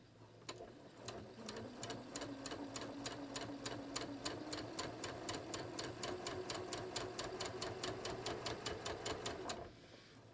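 A sewing machine stitches a second gathering row along the neckline of a ready-to-wear top, a fast, even run of close mechanical clicks that starts, holds steady for several seconds, then stops, with no talking.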